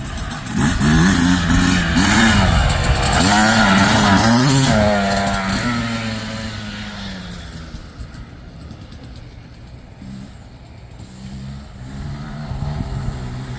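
A 2023 Yamaha YZ125X two-stroke dirt bike fitted with a SmartCarb SC3 carburetor revs hard, pulling uphill in second gear with a loud, rising whine, then fades into the distance.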